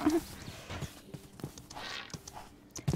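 Horse hooves clip-clop in a Minecraft game, a few soft, irregular thuds over game sounds, with brief human voice noises between them.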